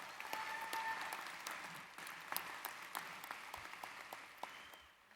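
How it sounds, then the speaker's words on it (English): A graduation ceremony crowd at the University of Central Florida gives thankful applause in a broad, even wash of clapping that sounds distant and quiet, with a few sharper claps standing out before it tapers off. "give them a round of thankful applause"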